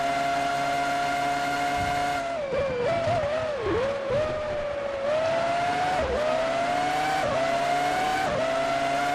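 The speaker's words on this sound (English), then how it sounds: "The engine's holding out, which is a surprise considering 2002." Formula One car engine at the Malaysian Grand Prix in the F1 2003 video game, a loud sustained high-pitched whine that rises and dips with gear shifts and throttle changes throughout the lap, with no talk.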